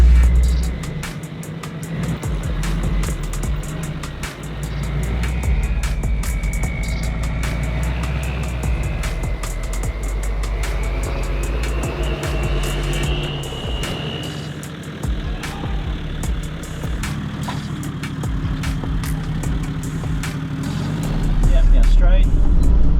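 4x4 off-road vehicle crawling through ruts on a track, a steady low engine rumble with creaks and knocks from the flexing suspension, heard from inside, with people talking over it.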